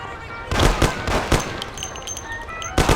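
Gunshots in the Mafia video game: a quick burst of sharp, loud shots, a few more scattered cracks, then another close shot at the end.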